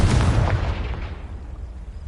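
Confringo explosive spell cast in the Hogwarts Legacy video game, a loud booming blast at the start that decays into a rumbling tail over about two seconds, heard alone without talk.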